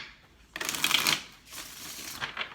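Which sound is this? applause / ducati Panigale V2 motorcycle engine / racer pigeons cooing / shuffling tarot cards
shuffling tarot cards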